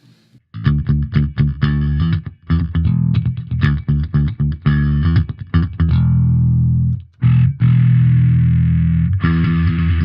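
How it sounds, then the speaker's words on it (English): Loud, gritty bass guitar notes through a Blackstar Unity Pro bass amp's pedal-like distortion, played in a steady line, with a short gap and a sustained note near the end. "We've got a balanced pedal-like distortion next. Again, I'll start with clean and engage it."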